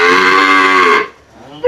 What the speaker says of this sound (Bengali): আমরা গরু দুইটা একটু হাঁটায় দেখবো কি জিনিস এগুলা